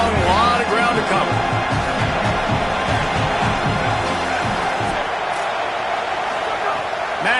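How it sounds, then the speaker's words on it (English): Loud, dense home crowd roaring and cheering in a College Football 27 video game, steady wall of noise throughout with rhythmic thumps beneath and a commentator talking over it. "how nice is it to have the home crowd going absolutely bananas?"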